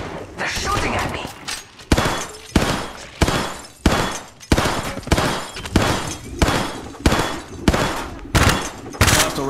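Rapid bursts of gunfire in the mobile battle game Apex Legends Mobile, loud repeated volleys with short gaps between them, firing steadily close to the listener.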